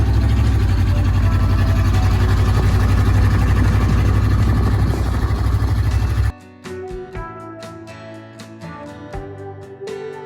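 A van whose exhaust has fallen off runs with a loud, close, low rumbling roar for about six seconds, then cuts off abruptly into a quieter scene of scattered clicks and tones.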